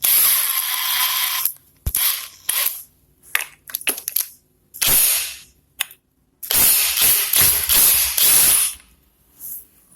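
Bursts of metallic ratcheting and clicking come from a tool working the clutch hub while a Suzuki GR150 motorcycle engine is taken apart, in loud, close, uneven spurts separated by silences.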